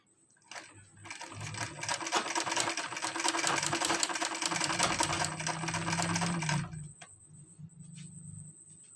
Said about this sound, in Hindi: इस तरह अंदर की तरफ ये पाइपिंग को करते हुए स्टिच करना है।